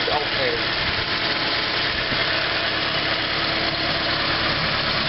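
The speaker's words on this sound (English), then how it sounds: "I think it's alternator." A 1992 Subaru engine idling steadily with a continuous whine and rattle from the alternator, close and constant, no voices.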